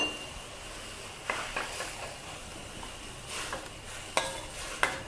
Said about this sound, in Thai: น้ำเดือดๆใส่ต้มลงไปเลย เนี่ย คนคนไปคนมานะ